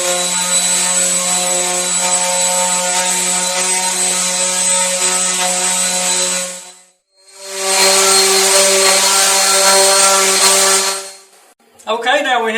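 Wooden mirror frame pieces being sanded: two long, steady passes of humming, rasping sanding separated by a brief pause, then a short burst of rubbing at the end.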